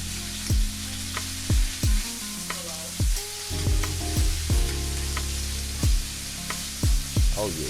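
Chicken skin sizzles in a hot pan for oven smothered chicken, a steady close frying hiss broken by repeated low thumps as the pan is shaken.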